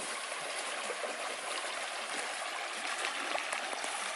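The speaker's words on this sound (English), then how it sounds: "where it's bubbling up" Mine drainage water bubbles up from the ground beside coal banks, making a continuous, close gurgle and rush with no pauses, steady and fairly loud throughout.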